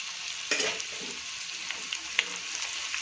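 Butter paneer masala with turmeric, salt and spices sizzling in a pan, a steady frying hiss with occasional scraping clicks of a spoon stirring.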